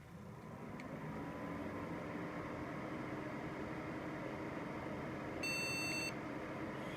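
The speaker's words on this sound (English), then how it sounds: "Yes, the sound of victory. BIOS beeps." A computer, resurrected old hardware, emits a short burst of BIOS beeps at power-up, heard as a brief high-pitched chirp over the steady hum and whir of fans and drives.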